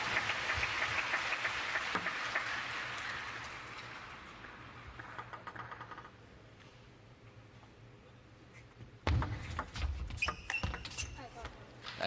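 A crowd at a women's singles table tennis match in Yokohama gives a broad wash of cheering that fades away. A sharp burst of clapping and shouts follows near the end.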